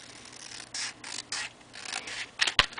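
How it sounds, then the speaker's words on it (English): Paper being trimmed for a handmade mini album, a run of soft, close, quiet cutting strokes in an uneven rhythm, ending with a sharper snip or tap near the end, with no talking. "I probably have to just trim this here a little bit more."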